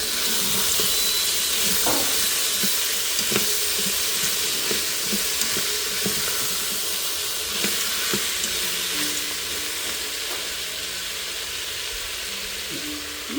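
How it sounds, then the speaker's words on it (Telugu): Frozen peas stirred and fried in a pan for a homemade veg biryani, giving a steady close sizzle with scattered scraping stir clicks throughout. "ఫ్రై అయిపోయాక తిప్పి కొంచెం మనం ఫ్రోజన్ పీస్ వేసేసుకుందాము"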